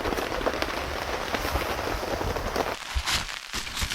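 Heavy rain pours onto a car during solo car camping, a loud dense continuous patter drumming on the roof and body close by, easing slightly near the end.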